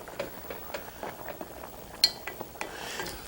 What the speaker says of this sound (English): Give it one last stir and then put on the lid.